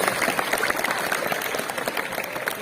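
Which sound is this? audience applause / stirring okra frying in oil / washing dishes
audience applause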